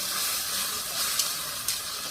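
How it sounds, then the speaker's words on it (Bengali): Pumpkin greens and broken rice hiss and sizzle steadily in a pan as they are stirred, with a couple of faint knocks in the middle. "এখন আমি নেড়ে দেবো"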